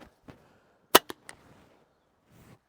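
A PD5 foam blaster fires a few sharp, close pops in quick succession, the loudest first, with faint handling noise around the shots and no talk.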